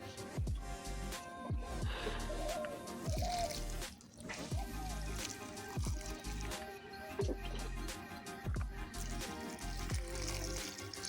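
Water poured onto a potted rose plant, heard as quiet, soft trickling and splashing in uneven bursts with small drips, close by and fairly faint.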